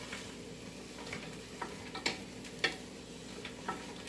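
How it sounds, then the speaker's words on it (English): Faint, steady sizzling of food frying in a pan for homemade chicken noodle soup, with occasional light clicks and scrapes of stirring. "But you can hear it sizzling and it's getting done"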